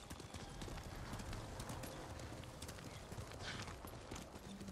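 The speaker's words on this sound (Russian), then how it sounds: "Можно где-нибудь самурайскую-то лошадь достать?" Horse galloping in the video game Ghost of Tsushima: rapid, steady hoofbeats at a fast rhythm, close and continuous, with a brief neigh and faint game ambience underneath.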